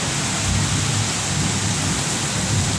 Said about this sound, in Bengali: কেমনভাবে বৃষ্টি হচ্ছে আজকে আমার বিয়ের দিনে এই দেখো বৃষ্টি হচ্ছে